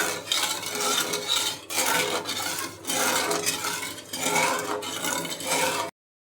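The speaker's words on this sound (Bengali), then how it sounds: "ভালোভাবে মিশিয়ে নিব।" A spoon stirs warm jelly for falooda in a metal pot, scraping and clinking against the sides in steady, close strokes that repeat for several seconds before stopping abruptly; no one speaks.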